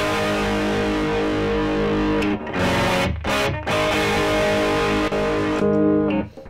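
Electric guitar run through a Jekyll & Hyde overdrive/distortion pedal with only the distortion channel engaged, playing thick, saturated sustained chords with a few brief breaks between strums, loud and close.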